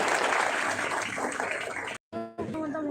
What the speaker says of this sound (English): Big round of applause to all of the panelists.